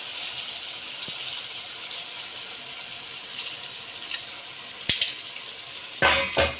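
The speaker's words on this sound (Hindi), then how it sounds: "अब हम इसमें सब्ज़ी डालते हैं।" Vegetables (capsicum, potatoes and carrots) tossed into frying masala give a steady close sizzle, with a few sharp spoon-on-pan clatters near the end.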